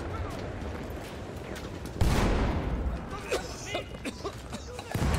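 Rapid gunfire crackles through a noisy Battlefield 1 game mix, with bursts of shots under excited voices talking over them.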